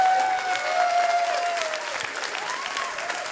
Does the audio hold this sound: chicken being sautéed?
no